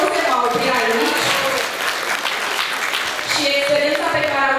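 Audience applause rings out after a school show, a dense, sustained patter of many clapping hands heard close, with a voice speaking over it.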